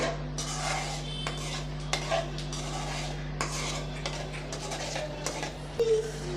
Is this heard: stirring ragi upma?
yes